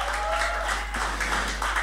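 A church congregation cheers and applauds for God, a brief burst of crowd clapping and raised voices at moderate volume.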